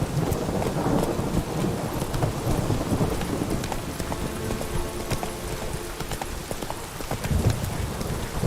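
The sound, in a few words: horse galloping in rain, from video game Witcher 3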